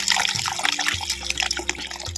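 Water is poured into a pot of village-style gooseberry rasam, a steady liquid splash and trickle heard up close with no voices.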